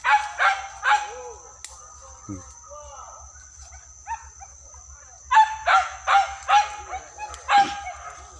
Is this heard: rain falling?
no